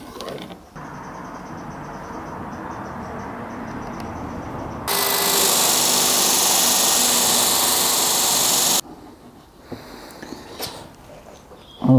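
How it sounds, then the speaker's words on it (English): An electric power sander roars loudly for about four seconds as it sands a flat spot onto the edge of a wooden tabletop of B&Q timber. Quieter workshop noise comes before and after. "I actually want to sand a little flat spot onto the edge of the tabletop"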